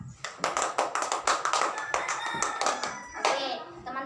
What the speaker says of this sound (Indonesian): berikan tepuk tangan untuk Sheila